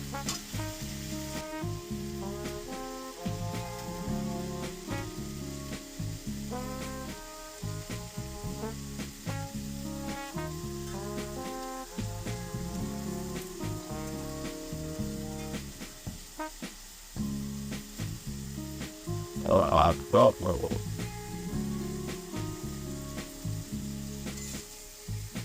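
Fish fat and innards sizzle with onion stalks in a pan for a steady, continuous fry, with occasional stirring scrapes and a louder burst of spattering near the end; no one speaks.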